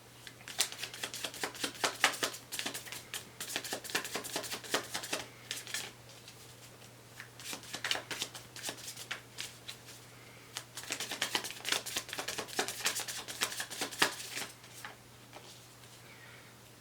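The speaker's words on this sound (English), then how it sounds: "So let me give the deck a really good shuffle." A deck of tarot cards is shuffled by hand in two long bursts of rapid riffling and clicking, close up and fairly quiet, with a brief lull between them.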